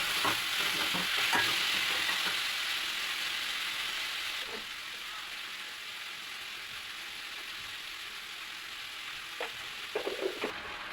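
Masala of ginger, garlic, coriander, chilli, turmeric, garam masala and tomatoes sizzles steadily in a pan, a continuous frying hiss with occasional stirring scrapes and clinks, close and moderately loud with no talk.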